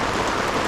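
Steady rain pours on Mount Prau during a storm with fog, a dense, loud, continuous hiss close by with no voices.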